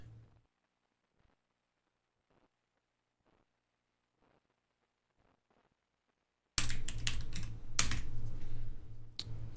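Computer keyboard keys clatter in a quick, loud burst of typing after several seconds of near silence broken only by faint scattered clicks.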